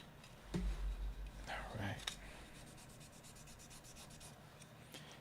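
Sandpaper rubs across the hood of a small model VW in a workshop, giving a few short, faint scratchy strokes close by, and a quiet voice speaks over them.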